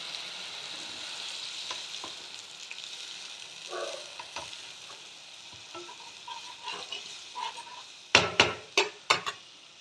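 Mustard and poppy seed paste with black cumin seeds fries in a pan for a fish curry, a faint steady sizzle with light scraping, ending in several sharp, loud taps of a utensil against the pan.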